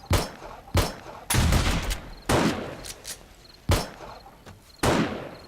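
Gunfire and explosions in the zombie survival game 7 Days to Die, heard as six loud, sharp blasts at irregular intervals, each trailing off into a decaying rumble, with no speech between them.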